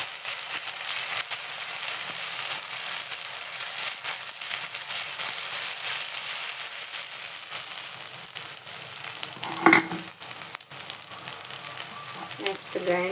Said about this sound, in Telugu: నెక్స్ట్ అల్లం వెల్లుల్లి పేస్ట్, పచ్చివాసన పోయే వరకు వేయించుకోవాలి